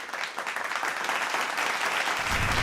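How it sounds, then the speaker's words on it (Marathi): Loud, dense audience applause fills the hall throughout, welcoming a city mayor onto the stage at a Women's Day special event, a steady roar of clapping with no pause. "जोरदार टाळ्या."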